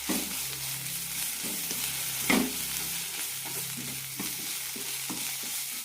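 Roasted coriander powder, turmeric and garam masala are stirred and fried in a pan for a yam flower masala curry: a soft, continuous scraping and sizzling with a low steady hum beneath and one sharper knock midway.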